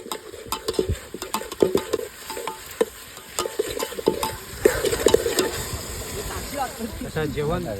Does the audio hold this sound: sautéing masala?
yes